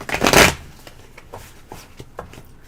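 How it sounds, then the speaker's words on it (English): A deck of tarot cards being shuffled: a loud burst of riffling at the start, then several softer taps and shuffles spaced out, with no voices. "Do I cut or do you shuffle?"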